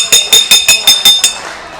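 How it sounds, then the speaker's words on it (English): A metal ring bell at a wrestling show is struck seven times in quick, even succession, bright and clanging, each hit ringing on briefly before the last fades out. "Ring the bell. Ring the bell."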